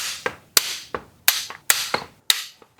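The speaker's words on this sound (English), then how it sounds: "I'm gonna go ahead and torque these bolts down because why not?" A torque wrench tightens tensioner bolts on a JDM engine being prepared for a G35 drift build, giving a series of six sharp metallic clicks and taps at an uneven rhythm, close and clear.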